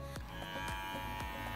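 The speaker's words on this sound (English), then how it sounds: "I'll go over it with the shaver again to trim the hairs on the sides a little more" An electric shaver buzzes steadily as it trims faux fur for cosplay ears, close and constant with faint repeated catches.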